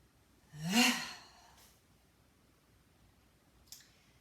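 One deep breath is drawn in, a single breathy inhale of about a second during a stretching exercise session, near and fairly soft, followed by quiet and a brief faint click.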